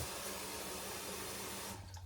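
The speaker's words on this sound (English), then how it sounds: "I'm gonna run the cold water all in there, and I'm gonna mix that all in." Cold water runs steadily from a tap into a pot in a constant loud rush, cutting off near the end.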